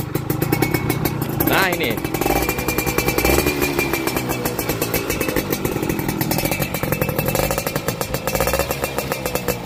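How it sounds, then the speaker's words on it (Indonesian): A 2002 motorcycle engine, kick-started because of a weak battery, runs steadily with a rapid, even mechanical chatter throughout, close and loud, while someone speaks briefly over it. "dengarkan suara dari Wizz Air tahun 2002 ini ya"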